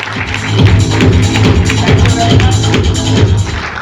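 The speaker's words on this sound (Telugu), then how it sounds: "మరి సార్ గురించి మరొకసారి గట్టిగా క్లాప్స్ తో" Audience at a Safe Shop seminar applauding a guest speaker, a dense, loud, sustained wash of many hands clapping together throughout, with faint voices underneath.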